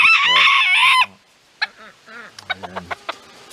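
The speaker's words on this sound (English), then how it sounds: "mean rooster right there" A rooster crows loudly and close for about a second, followed by softer clucks and short fowl calls scattered after it.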